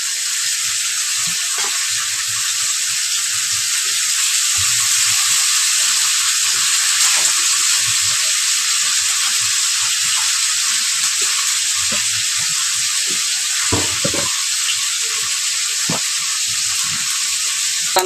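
Chorra fish chochchori curry sizzles in the pan with a steady, loud frying hiss throughout, broken by a few faint clicks of stirring.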